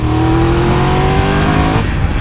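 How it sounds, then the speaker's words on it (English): A loud, steady three-cylinder Triumph Tiger 1200 motorcycle engine drone with a smooth, continuous exhaust note, held up close for a couple of seconds before easing slightly near the end. "If you listen to that exhaust note, it is special."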